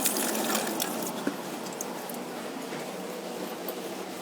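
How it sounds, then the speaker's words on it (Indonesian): Tap water running steadily during handwashing at a health clinic, a faint continuous hiss and splash with a few small drips, no one speaking. "kita cuci tangan dulu"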